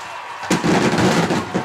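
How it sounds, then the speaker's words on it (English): Distant fireworks booming and crackling behind a high school football field on game night, a rolling rumble that starts abruptly and carries on as a dense, continuous wash of far-off bursts. "with the fireworks going off in the distance."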